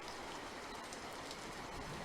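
Steady rain in a Sinhala cartoon about a flood, a constant, even hiss of falling rain with no break or change in loudness, heard alone without voices.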